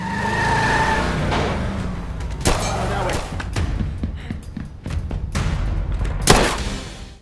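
A car in an action film skids and speeds off, with tire squeals, roaring engine and sharp impacts under music and dialogue.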